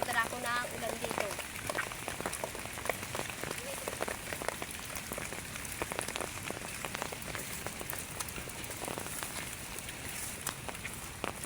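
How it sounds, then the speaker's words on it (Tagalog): Rain falls outdoors during firewood gathering, a dense steady patter of drops on surfaces with scattered sharper taps, continuous and fairly quiet throughout. "Kaya ngayon, nabuta na ako ng ulan dito."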